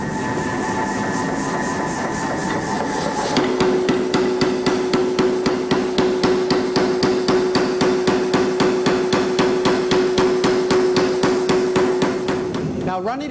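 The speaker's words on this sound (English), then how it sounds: "running it under the die of the power hammer" A power hammer pounds hot steel under its die for a garden gate, in a fast, steady rhythm of loud metallic blows, preceded by a few seconds of roaring forge and machine hum.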